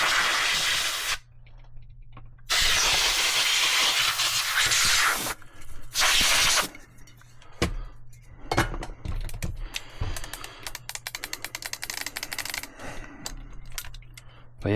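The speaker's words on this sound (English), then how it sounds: "Do a little air spray here." Loud bursts of compressed air hiss in several long sprays while cleaning an Autococker paintball marker, broken by quiet gaps, then a stretch of small clicking and tapping handling noises.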